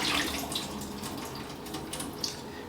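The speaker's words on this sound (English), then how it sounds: "So what I'm going to do, I'm going to throw the water off." Soaking water being poured off salted fish into a sink, a continuous close splashing trickle with a few small drips and clatters.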